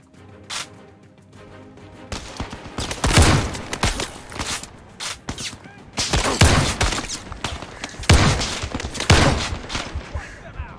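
Repeated shotgun blasts and bursts of gunfire in the VR shooter game Zero Caliber, loud heavy booms at irregular intervals over about eleven seconds with scattered smaller shots and clatter between them.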